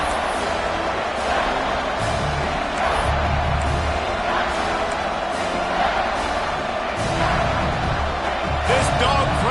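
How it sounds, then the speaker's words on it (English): Packed college football stadium crowd at Alabama versus Georgia roars on third down, a loud sustained rumble of cheering swelling and holding, with an announcer talking over it. "This dog crowd is off the leash, and they are coming after them, bringing noise on third down."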